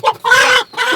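A mother hen gives loud, close clucks and squawks in three bursts, with a long agitated middle call, as she is caught from over her chicks.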